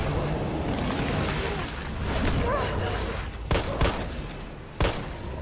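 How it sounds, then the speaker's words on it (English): Rocket launcher fired at Nemesis in Resident Evil 3, a rumbling barrage of blasts followed by two sharp, loud booms spaced about a second apart near the end. "I hit him with rockets"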